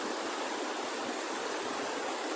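Water plunging 50 to 100 metres straight off the top of a cliff in the Australian bush, a dense, continuous hiss and roar close by with no other sounds.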